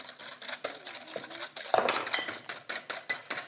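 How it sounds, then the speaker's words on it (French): A whisk beats three egg yolks with sugar in a bowl for sabayon, a fast, regular run of bright metallic clicks and scrapes close to the microphone, one sharper knock partway through, with no talking. "2 bonnes cuillères et demie à soupe de sucre pour 3 jaunes d'œufs. Je mélange."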